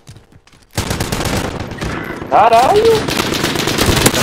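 Rapid bursts of gunfire in Call of Duty: Modern Warfare (2019) crackle after a quiet start, with someone shouting over the shooting.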